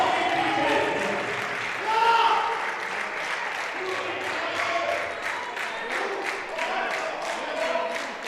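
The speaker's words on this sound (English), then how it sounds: "they're all clapping, all cheering on their man" A crowd at a classic powerlifting competition during a bench press record attempt claps and cheers continuously, a dense steady wash of applause with a swell, while a commentator talks over it.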